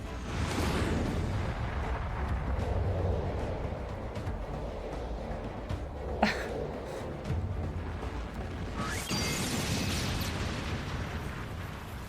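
Bomb explosions in the Final Fantasy XIV battle on the Big Bridge form a dense, continuous roar of rumbling blasts, with a sharp bang in the middle and another swell of booms near the end.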